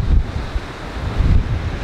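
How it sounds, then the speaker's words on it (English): Rough Atlantic sea waves surge below a glass-floored clifftop viewpoint at Santana, Madeira, heard as a low rumbling wash mixed with heavy wind buffeting the microphone. "Look at the waves."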